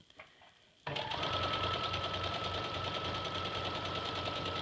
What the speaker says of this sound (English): You can even use your hand wheel to turn the needle if you don't feel comfortable using your foot pedal.